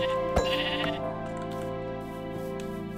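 Sheep bleating in a video game, with several steady tonal bleats sustained over a constant droning game background, moderately loud and alone with no talk.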